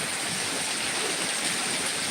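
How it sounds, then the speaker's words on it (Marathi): Heavy rain pours down steadily in a dense, even hiss that fills the whole clip with no pauses, loud and close and with no voices over it. "खूप पाऊस चालू आहे जोरात आवाज येत असेल तुम्हाला पावसाचा"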